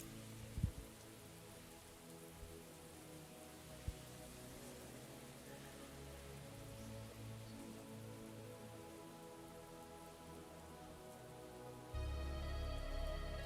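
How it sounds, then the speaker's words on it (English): Rain sound effect opening a deathcore song: a steady patter of rain on surfaces with a few sharp drips early on, growing slightly louder near the end as a tonal layer enters. "it sounds like it's raining"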